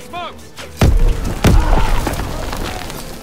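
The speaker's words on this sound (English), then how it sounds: "Fire! Lob it a grenade!" Loud grenade explosion and gunfire in Call of Duty WWII, set in the Hürtgen forest in Germany: heavy booming thumps and sharp shots over a rumbling background, with shouted voices in the mix.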